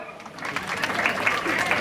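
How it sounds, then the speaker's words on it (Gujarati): Applause from the audience at a family community get-together builds from a thin patter into steady, fairly dense clapping, with voices mixed in. "અરે ભાઈ તાળીઓ વગાડો."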